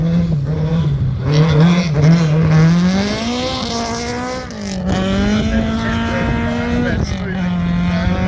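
A Ford Escort rally car races around a corner at a Ben Nevis Station event, its engine note rising and falling as it brakes and accelerates through the bend, loud and fairly close, with a second surge of revs toward the end.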